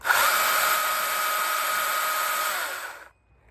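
A Stihl MSA 220 TC battery chainsaw powers up with a loud, steady high-pitched electric whine, running close by for about three seconds before cutting off abruptly into near silence.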